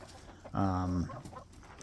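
A single drawn-out chicken cluck rings out close by for about half a second, then fades into quiet background noise.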